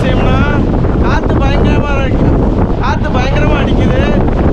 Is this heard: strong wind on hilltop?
yes